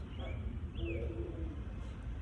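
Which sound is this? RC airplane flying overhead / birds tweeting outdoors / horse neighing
birds tweeting outdoors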